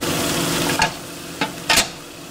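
Rabbit meat frying in a pan outdoors after a Pennsylvania hunt, with a constant close sizzle and a few sharper bursts of crackling as pieces are laid down and moved around.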